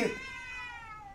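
A single short cat meow from the Ju-On Wii horror video game rises sharply and then fades into a thin, trailing cry.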